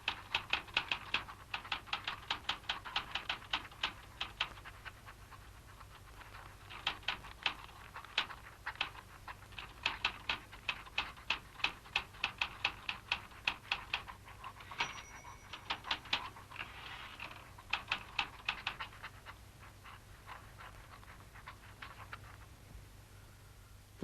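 Rapid bursts of typewriter keystrokes, a toy-like machine clattering out party invitations in a riverbank animal story, with a small bell ding midway; steady, close, with no talk.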